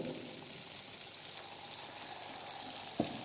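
Constant bright sizzling from a hot pan as dry white wine is poured in, steady and fairly quiet, with a single soft knock near the end.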